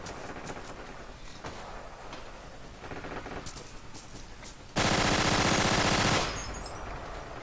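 A Suomi submachine gun in the World War II shooter Forgotten Hope 2 fires one loud, close, sustained automatic burst of about a second and a half, after faint scattered distant gunfire.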